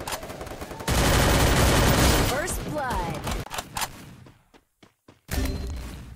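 Gunfire in the Free Fire battle royale game: a loud, dense burst of rapid shots and impacts through the first half, thinning to scattered pops and thuds with brief silent gaps, then a renewed loud burst at the end.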